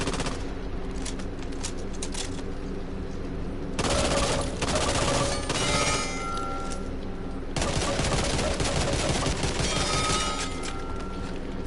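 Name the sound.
Uzi gunfire in video game Back 4 Blood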